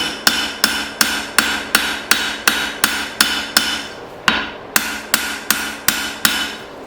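Hammer forging a blade from an old file, with steady, evenly spaced ringing blows on metal, loud and close, about two strikes per second and one short pause, with no voices.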